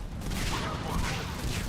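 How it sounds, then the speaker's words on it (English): Dense explosions and gunfire in the video game Mass Effect 3, a continuous loud barrage of booms and shots with no clear gaps. "This is a lot of explosions."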